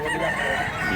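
A big two-year-old rooster brought by a seller, crowing loudly and close for about a second.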